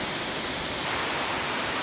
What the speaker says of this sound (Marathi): तुम्हाला हा धबधबा पूर्णपणे दाखवतो आहे